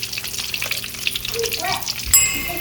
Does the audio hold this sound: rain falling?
no